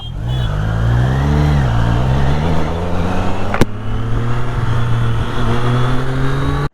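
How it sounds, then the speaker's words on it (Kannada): A three-cylinder 800cc motorcycle engine revs steadily with a deep, throaty drone, briefly blipping higher partway through before settling back into a sustained loud rumble. "ಇದಕ್ಕೆ ಮೂರು ಸಿಲಿಂಡರ್ ಇದೆ ಗಾಡಿಗೆ ಹಾಂ ಹಂಗೆ ಮಾಡುತ್ತೆ ಸೌಂಡು"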